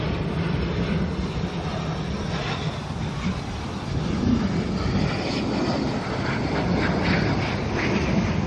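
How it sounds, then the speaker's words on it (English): An ATR turboprop airliner arrives at Auckland Airport from Palmerston North, its steady broadband engine and propeller roar holding loud and continuous throughout, swelling slightly partway through. "ATR here, coming in from Palmerston North of all places."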